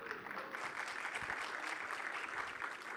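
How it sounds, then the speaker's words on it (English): An audience at a digital summit event gives a steady round of applause, dense clapping filling the hall at a moderate, even level throughout. "Can we have a round of applause for Tahir?"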